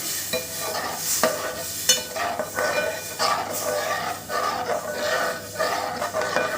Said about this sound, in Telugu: మైదా పిండి వేసుకొని కలుపుకుంటూ పాలు మనకు సరిపడినంతగా పాలు వేసుకోవాలి